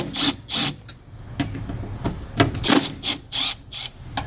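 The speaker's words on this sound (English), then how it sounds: "The other thing we're going to need to do is take these 3 Torx screws out" Torx screws come out of a 2010 Ram pickup door latch with close, repeated short ratcheting and scraping bursts of the driver. A soft rasping runs between the bursts.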